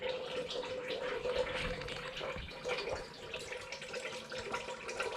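Water rinses through and drains out of a car part on a red Ranger project, a steady close-up gush and trickle that runs continuously with slight surges and no talking.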